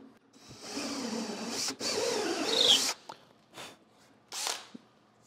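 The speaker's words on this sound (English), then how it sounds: "I also try to drill kind of slow, just in case it does move it a little bit." A power drill bores a dowel hole through a dowel jig held with a pipe clamp, running in a few separate bursts, the longest at the start, with short pauses between them.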